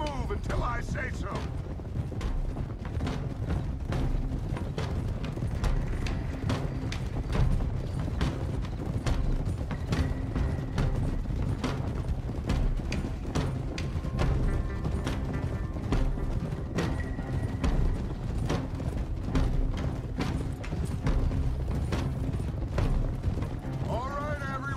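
Horses ridden by a group in the video game Red Dead Redemption 2 clip-clop steadily over ground, hooves beating in a continuous rhythm with creaking tack, fairly quiet and close.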